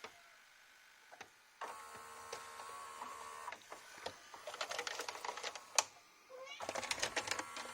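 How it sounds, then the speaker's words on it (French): A 1998 JVC HR-J756MS VHS VCR that had taken on water, its head drum spinning and rubbing slightly, heard up close as a steady mechanical whir broken by bursts of dense clicking and scraping. "On entend il frotte un peu."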